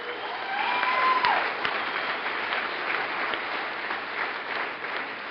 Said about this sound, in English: You are clapping for yourselves.